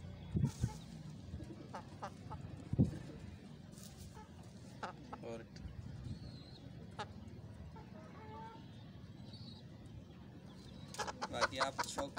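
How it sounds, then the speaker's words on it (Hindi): An Aseel hen clucks intermittently up close, soft short clucks scattered across a long stretch under someone talking, with quiet rustling in the background. "बेहतरीन हमारी असील मुर्गी है ये"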